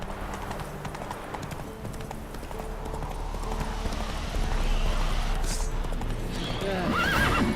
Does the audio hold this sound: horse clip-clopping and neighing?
yes